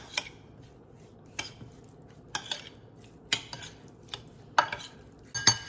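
Seasoned raw shrimp with pink Himalayan salt and pepper being tossed in a bowl, giving sparse clinks and scrapes of a utensil against the dish at irregular intervals, fairly close and otherwise quiet.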